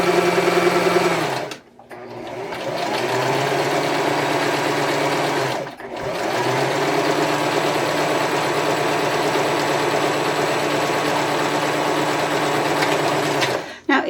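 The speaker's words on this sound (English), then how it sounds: "you're going to sew all the way around" A sewing machine stitching around puffy fabric wreath pieces, running in long steady whirring stretches broken by two short pauses, close and loud.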